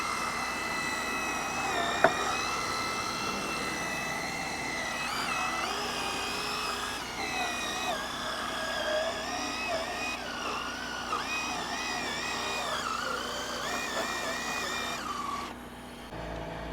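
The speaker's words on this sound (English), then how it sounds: "So now I'm going to agitate with my drill brush." Drill brush agitating pre-sprayed car carpet during an interior detail: a steady, whining motor tone that rises and dips in pitch as the brush works, close and continuous, then cuts off near the end.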